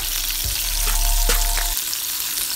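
Crayfish sear in a hot pan with a loud, steady sizzle and crackle, a low rumble underneath and a few sharp clinks midway, no voices.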